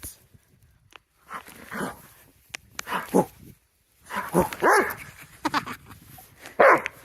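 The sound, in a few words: dog barking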